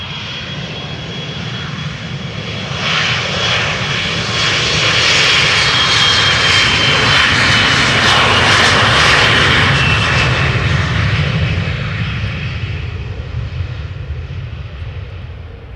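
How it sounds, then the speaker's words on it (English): A KLM Embraer 175, five years old and bound for Norwich, takes off at Amsterdam Schiphol: a loud, steady jet roar that swells to a peak midway and then slowly eases as the plane climbs away. "Embraer 175 going to Norwich has in the meantime arrived and taking off."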